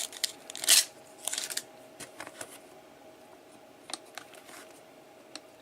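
Tape being handled while taping over connectors in a Ford F-150, with crinkly rustles and a few quick tearing bursts early on, then soft scattered ticks, close and quiet with no talk.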